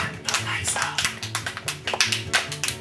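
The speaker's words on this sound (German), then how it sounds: "Ich klatsche mal ganz leise" Soft hand claps in a quick, steady rhythm, light and close, with musical accompaniment running underneath.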